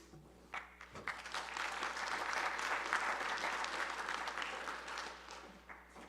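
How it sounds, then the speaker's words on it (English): A conference audience at a workshop session applauds its speakers, a dense burst of many hands clapping that swells quickly, holds steady for several seconds, then thins out. "I want to give one more round of applause for all 6 speakers in this session"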